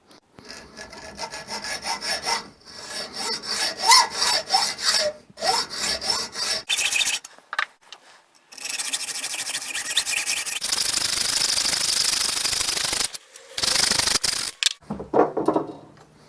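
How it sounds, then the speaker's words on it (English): A hacksaw cuts metal in rhythmic back-and-forth strokes, close and rasping, in bursts separated by short pauses, later moving into faster sustained sawing. "attack it with a hacksaw and remove the bulk of the metal"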